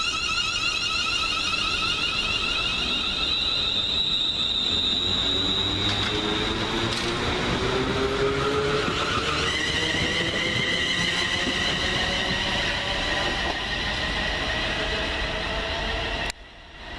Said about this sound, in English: What time's that train?